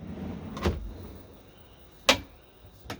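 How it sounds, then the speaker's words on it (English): Soft-close drawers in the kitchen of a Knaus Sun I 900 LX A-class motorhome shut twice with soft thuds, followed by a lighter tap near the end of a quiet interior. "And in here, very nice drawers, soft close function."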